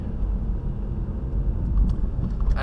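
Interior drone of a small project car out for a short, pokey drive, with a steady low engine and road rumble carrying throughout and a few faint clicks near the end.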